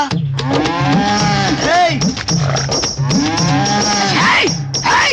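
A buffalo moos loudly and close by in long, drawn-out bellows, two main calls filling the stretch, with faint background noise and no clear talk over it.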